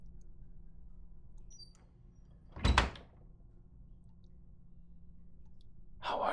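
A door opening in a pirate fortress roleplay, one short loud clack with a brief rumble at mid-distance in a quiet room, followed by a faint rustle.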